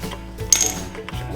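Ratchet clicks from an 8mm socket wrench backing out the spark arrestor screw on a Predator 3500 inverter generator, a brief, close run of small metallic ticks over a low steady hum.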